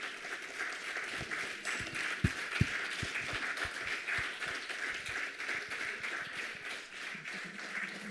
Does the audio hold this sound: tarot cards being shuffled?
no